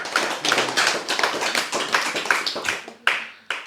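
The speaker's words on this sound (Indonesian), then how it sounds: "Tepuk tangan." A crowd claps in a dense, steady burst of applause for a few seconds, with a couple of sharper taps near the end.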